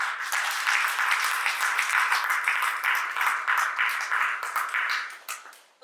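An audience at a spiritual gathering on Bhaktamar healing breaks into loud, sustained applause, a dense wash of many clapping hands lasting several seconds before fading out at the end.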